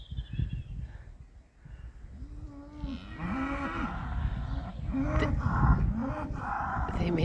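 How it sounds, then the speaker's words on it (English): Bulls in a field on a hot day call out in several deep, groaning bellows, overlapping and building in loudness, with some rustle and low background rumble and no talking. "These are the bulls."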